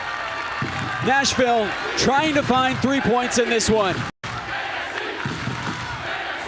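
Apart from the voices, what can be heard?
stadium crowd rising at Nashville SC soccer match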